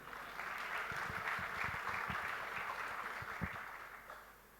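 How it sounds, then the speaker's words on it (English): Faint audience clapping at a panel discussion, a scattering of individual claps over a soft crowd wash that gradually thins out toward the end. "I should thank him for the claps."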